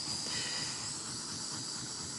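A handheld torch hisses steadily while gently warming paint, a continuous broad airy rush that stays even and close throughout.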